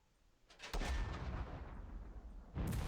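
Heavy automatic gunfire from a tank's machine gun in the Second Front war game, a loud continuous burst of rapid shots with a sharp onset and a fresh burst near the end.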